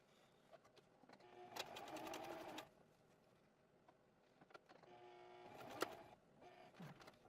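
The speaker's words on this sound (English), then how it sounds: "I'm sewing on the other side of the breast strap" Sewing machine stitching the breast strap of a high-visibility dog vest, two bursts of rapid mechanical whirring and clicking separated by quiet pauses and small handling sounds, close but low in level.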